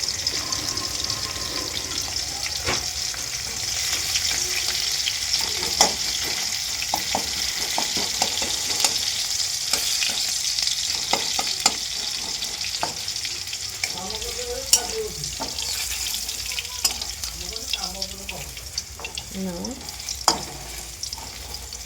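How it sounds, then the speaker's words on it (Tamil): Chopped garlic and dried chilies sauté in a pan with a steady, close hiss of frying oil, broken by occasional scrapes and taps of a stirring spoon throughout. "கட் பண்ண பூண்டு, அதுக்கப்புறம் வந்து காஞ்ச மிளகாய் போட்டாச்சுங்க"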